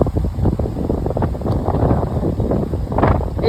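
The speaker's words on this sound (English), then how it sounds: "it's still pretty windy though" Strong wind after a hurricane at a Florida homestead buffets the microphone as steady, loud, low rumbling gusts that swell and ease without a break.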